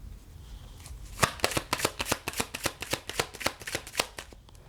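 Tarot cards being shuffled and drawn: a quiet start, then a rapid run of crisp riffling snaps in quick rhythm, close and distinct, with no talk.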